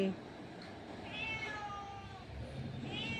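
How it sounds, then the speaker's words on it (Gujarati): A cat meows several times, drawn-out and plaintive, fairly close, while someone talks quietly in the background. "બિલાડી બેન આવી ગયા છે અમારા બાજુવાળાના ઘરે"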